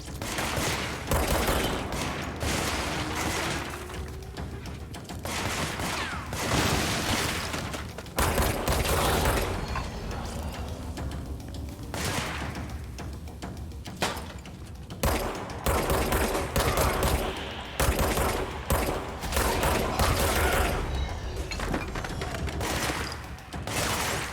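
Dense gunfire in the video game Control, with rapid volleys of shots and booming impacts almost nonstop, loud and up front, with no talking.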